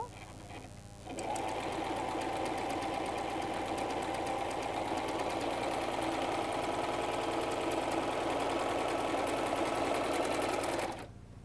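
A sewing machine stitches the side seams of a salwar in one long, steady, even run lasting about ten seconds, starting abruptly after a brief quiet moment and stopping just as suddenly near the end.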